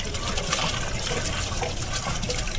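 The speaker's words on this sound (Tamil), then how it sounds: "இப்போ தண்ணி கட்டி மசாலா நல்லா கொதிச்ச அப்புறம் ரைஸ் எடுத்து போடணும்" Water gushes steadily into a large pot of boiling masala for a 40 kg jackfruit biryani, a continuous close pouring and splashing rush with no pauses.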